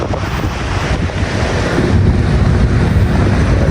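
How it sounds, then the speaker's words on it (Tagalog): Strong wind roars and buffets the microphone in a continuous, loud rush at a spillway, with a surf-like wash underneath and no voices. "Pabor yung hangin no? Dito galing yung hangin."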